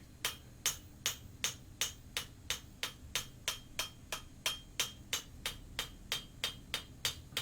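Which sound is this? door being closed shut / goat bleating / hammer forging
hammer forging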